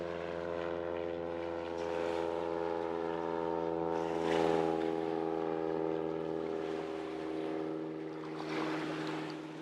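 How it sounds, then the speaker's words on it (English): A propeller aeroplane drones overhead above an island carp-fishing spot in the USA, a steady moderate hum that swells and eases over several seconds with no talk. "Oh, here comes the aeroplane."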